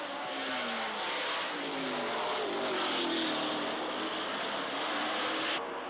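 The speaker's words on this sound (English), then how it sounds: "All these cars are driving flat out, each on the limit" Can-Am race car engines scream past at high revs during the 1984 Grand Prix of Trois-Rivières, a steady roaring drone with pitch shifting as the cars pass, loud and close.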